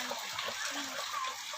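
Water pours steadily from a stone spout at Pancur Gading, a continuous broadband gush and splash heard close, with faint voices murmuring in the background.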